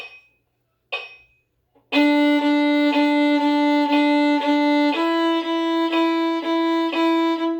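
A bowed string instrument plays a steady run of evenly spaced short notes, close and clear, after a couple of brief plucked tones.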